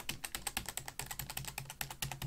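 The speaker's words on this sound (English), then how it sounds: "So this is what a regular keyboard sounds like." Typing on a regular non-mechanical computer keyboard gives a steady patter of soft, muffled key taps at close range, fairly quiet, with no one talking.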